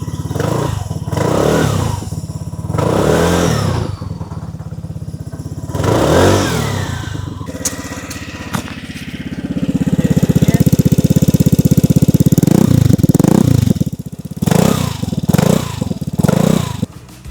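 A Vespa Primavera scooter fitted with a performance exhaust and air filter idles with a deep, bassy putter, then revs in several short bursts and holds a longer sustained rev before settling back, close and loud.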